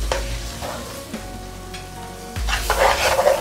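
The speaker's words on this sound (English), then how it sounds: "The apples cook a little bit, but you don't want this flame to be too high because your flour will burn" Diced, peeled golden apples cook in a pan over a moderate flame, a soft crackling sizzle with scraping stirs, getting louder and busier toward the end.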